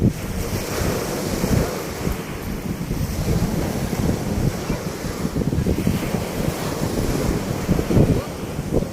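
Loud, steady roar of ocean waves and gusting wind buffeting the microphone, continuous throughout with no clear speech.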